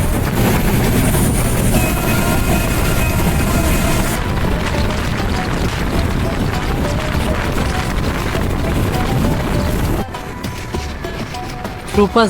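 Chilahati Express passenger train running between stations, a dense continuous rumble and rattle of wheels on rails heard from onboard, loud and steady, dropping abruptly near the end to a quieter rolling noise.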